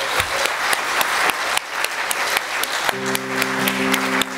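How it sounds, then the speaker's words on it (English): A church congregation breaks into loud, sustained applause after a sermon prayer. Dense clapping runs throughout, and a held organ or keyboard chord joins partway through. "And let's give them an applause."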